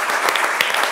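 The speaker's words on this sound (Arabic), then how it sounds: "نحب تصفيقة كبيرة برشا اليوم" Dense, steady audience applause at a televised Ramadan special, loud and close, a continuous wash of claps with no voices on top.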